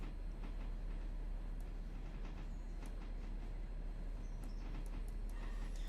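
A brand new locomotive on the Whittier & Southern line rumbles steadily as it slows, with a constant low drone and faint metallic clicks and squeals over the top.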